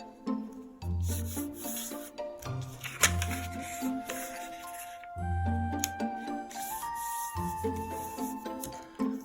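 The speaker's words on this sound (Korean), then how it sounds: "중심선에 맞춰서 대문 접기를 해줍니다." Paper is folded and creased for an origami flower, with repeated close rubbing and crinkling strokes over soft background music, and no speech.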